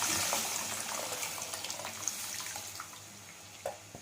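Tamarind water is poured into a pan of garlic kulambu (poondu kulambu), a steady splashing pour that gradually fades, ending with a couple of soft clinks and no talking.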